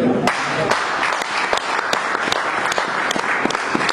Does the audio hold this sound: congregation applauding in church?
yes